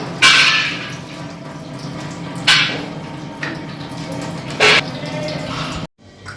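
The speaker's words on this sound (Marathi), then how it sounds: "मसाला झालेला आहे, आता त्याच्यामध्ये पाणी टाकूया आपण" Water poured into cooked spice masala in a pan for an okra curry, three separate splashy pours with hissing bursts, each followed by quieter bubbling.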